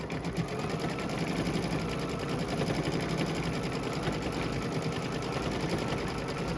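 A computerized quilting machine sews dense custom quilting, a loud, close, continuous rapid needle chatter that holds at a steady pace throughout with no talking.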